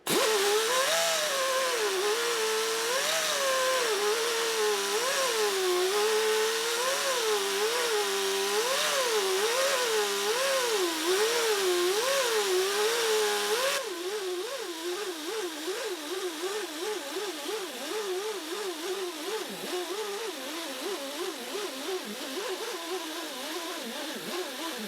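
A motor-driven buffing wheel loaded with jeweler's rouge polishes Gibson guitar frets, giving a steady, close whine whose pitch wavers up and down continuously, then drops to a quieter, lower hum partway through. No one speaks.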